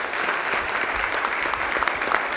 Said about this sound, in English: a big round of applause as Luchi Gonzalez is welcomed here in San Jose